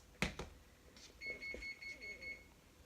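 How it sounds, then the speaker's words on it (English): An oven preheated to 375 gives a single sustained electronic beep of about a second, faint and following a couple of soft knocks in a quiet kitchen. "That's the beep for the oven."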